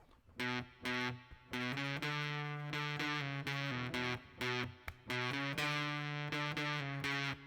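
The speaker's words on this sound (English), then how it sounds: "Sounds like this, and I've got a fuzz pedal by the way." A distorted electric guitar riff through a fuzz pedal, played in loud choppy chords with brief pauses between phrases.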